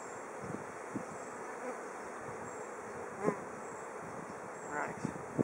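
Bees buzz around an open beehive with frames exposed, a soft continuous drone with a few individual bees passing close to the microphone.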